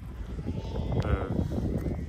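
Sheep in a mountain flock bleat, with a single wavering bleat rising through the middle over a dense rustle of the herd moving nearby, no one speaking.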